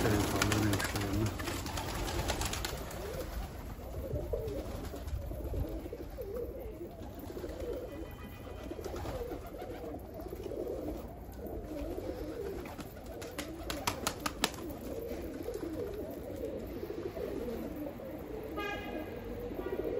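Tumbler pigeons coo softly outdoors in Istanbul, steady low cooing under constant background noise with a few faint clicks.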